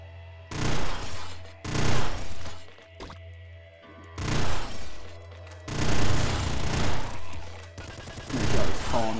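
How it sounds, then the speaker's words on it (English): Hyper pop rifle gunfire from the video game Nuclear Throne fires in four loud, dense bursts of rapid popping shots, separated by short pauses. "I am liking this hyper pop rifle."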